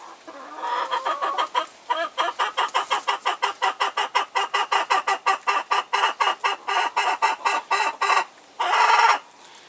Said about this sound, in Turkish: Bunlar da tavuklar oluyor.